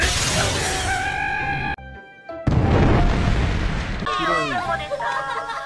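An anime-style explosion sound effect for a blast high in the sky: a loud, close burst and crackle, followed by a second rushing boom, with a narrating voice running over parts of it.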